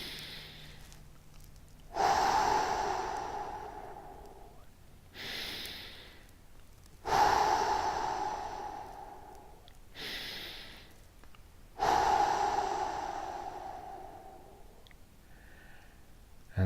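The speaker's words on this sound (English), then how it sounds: "we're going to take 3 deep breaths" Three deep, slow breaths in a guided meditation at the close of a running-program session, each a loud inhale-exhale swell lasting a few seconds, separated by short quiet pauses, close to the microphone with no talking.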